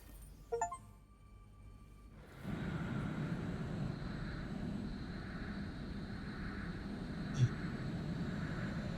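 An airplane in the video game Power Wash Simulator flies overhead. A steady engine roar swells in after a couple of seconds of quiet and holds, with a few light clinks at the start and one sharp tick later.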